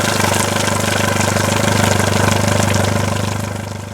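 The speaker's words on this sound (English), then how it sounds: "I'm going to let it run for about 10-15 minutes. I'm going to flush all the salt water out of my engine." An outboard boat motor idles up close while being flushed with fresh water to clear out salt water, a steady, loud mechanical drone with a fast regular pulse that fades slightly at the end.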